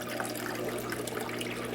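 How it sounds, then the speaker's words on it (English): Water rushes steadily down into an aquarium sump that is filling more slowly than the pump returns water. The flow is a constant, even, close splashing hiss with no voices. "so the water's not getting down to the sump at the rate that it's pumping back in"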